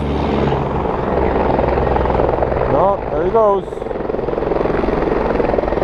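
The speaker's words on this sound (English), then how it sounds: "you gotta pay to get the chopper to come to pick up your sled out of the mountains" A helicopter flies over mountains to pick up a stranded snowmobile, its steady rotor drone loud and continuous throughout while someone speaks briefly over it.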